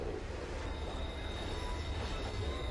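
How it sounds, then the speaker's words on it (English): In the Pokemon Rejuvenation video game, a train brakes to a stop with a steady loud rumble and a thin high squeal of wheels running throughout, with no voices. "I'm stopping this train right now!"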